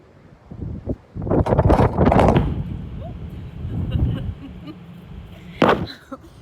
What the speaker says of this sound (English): We had a little wind issue. We have a heavy south wind today.